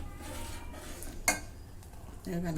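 A spoon stirring basundi in a pot, faint scraping and soft clinks with one sharp metallic knock, close but quiet over low background noise.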